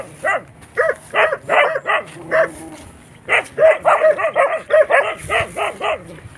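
A dog barks repeatedly and close by in two quick volleys of sharp, evenly spaced barks with a brief pause between them.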